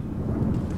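A lightning spell cast in the dungeon game Legend of Grimrock gives a brief deep rumbling crackle, loud and dense like a thunder roll, with no voices.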